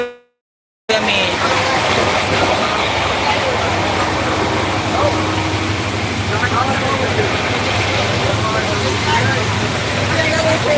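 Steady rumbling interior noise of a moving train, a continuous broadband roar with low hum, after a brief moment of silence at the start.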